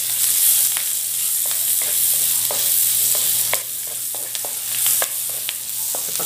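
Onion sautés in hot butter in a frying pan, a steady close sizzle with scattered stirring clicks and scrapes throughout, no talk.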